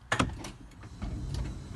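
The power sliding door of a Dodge Grand Caravan closes with a quiet electric whir, a couple of soft clicks and a low rumble as it seals, heard close and alone.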